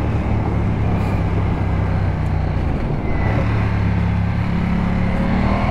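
A Ducati Diavel 1260 S motorcycle from 2021, started by keyless button, rumbles at a steady idle close by, a continuous low engine drone with no voices.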